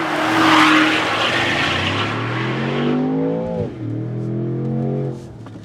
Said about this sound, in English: this is what the Quicksilver exhaust sounds like on the Range Rover Sport SV.